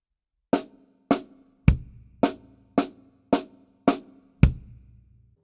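Linear drum pattern in a 3 plus 5 grouping, eight sharp single strikes at a steady even spacing, each ringing briefly, the last one heavier with a deeper low thump.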